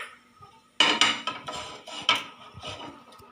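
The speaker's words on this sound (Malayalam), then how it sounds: "നമുക്ക് ഗ്യാസ് കത്തിക്കാം എന്നിട്ട് നമുക്ക് നമ്മുടെ പാൻ എടുത്ത് വയ്ക്കാം" A frying pan is set down on a gas stove in a home kitchen, giving a cluster of sharp metallic clanks and scraping knocks up close, with no talk.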